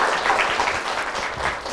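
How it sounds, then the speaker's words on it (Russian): An audience applauds at a journalism master class, a dense, steady wash of many hands clapping that carries evenly through the whole short stretch. "Под ваши аплодисменты."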